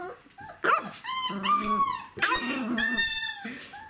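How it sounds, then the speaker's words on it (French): A three-week-old Czechoslovakian wolfdog puppy makes small growls mixed with whimpers and yips, close by, while a person talks over it in a soft, coaxing voice. "T'es qui me grogne dessus?"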